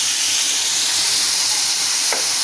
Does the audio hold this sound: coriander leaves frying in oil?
yes